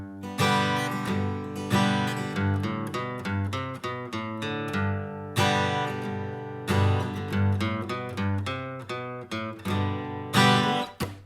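Acoustic guitar playing the riff of a song, a steady strummed chord pattern with single melody notes added, clean, close and unaccompanied.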